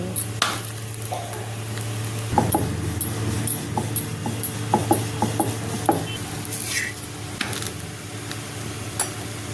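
A cauliflower paratha roasts on a hot tawa with a soft, continuous sizzle, broken by occasional clinks and scrapes of a spatula against the pan, close by and with no talking.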